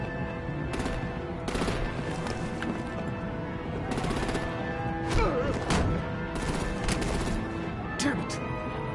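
Gunfire rattles in repeated bursts and single shots in the Batman The Enemy Within video game, mixed with a steady background score and dense action noise.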